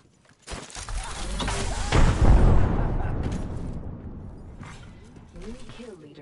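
A frag grenade goes off in a battle royale video game with a single loud booming blast that rolls out into a fading rumble, while other game sounds and faint voices continue afterward.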